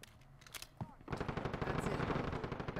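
Rapid automatic gunfire in the video game Call of Duty Modern Warfare 2, a dense rattling burst that builds and keeps going after a few single shots, with a voice speaking faintly underneath.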